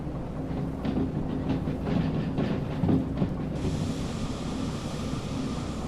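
A train rolling along rails with its brakes released in a train simulator video game, a steady, loud rumbling roll with faint clicking that turns to a smoother, brighter hiss partway through, with no talk.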